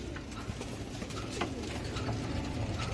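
Pigeons coo softly and repeatedly at close range over a steady low background hum. Nobody speaks.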